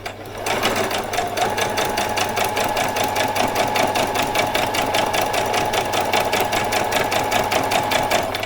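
A sewing machine runs a continuous straight stitch along ribbon on an old dress being upcycled, a steady, close, rapid mechanical whirr with an even rhythm that holds unbroken for the whole stretch.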